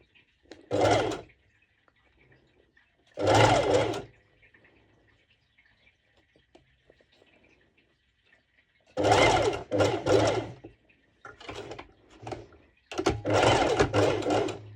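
Sewing machine stitching mesh fabric close to the edge, running in short bursts of rapid mechanical whirring separated by quiet pauses, close and steady.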